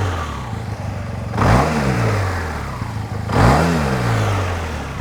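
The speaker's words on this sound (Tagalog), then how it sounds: "Maxi scooter na ganito tumunog" A SYM Maxsym TL 508 maxi scooter with a 508cc engine idles close by, then two sharp throttle blips rev it up and let it fall back to a steady idle, loud with no talk.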